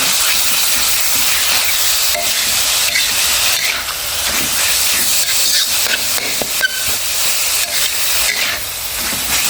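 Minced pork sizzles loudly as it is stir-fried in a pan for a Thai pickled bamboo shoot dish, a steady close hiss with occasional faint clinks and scrapes of stirring.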